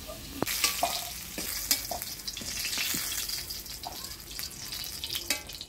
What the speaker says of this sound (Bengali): আলুটা আমি লাল লাল করে ভাজি নিলাম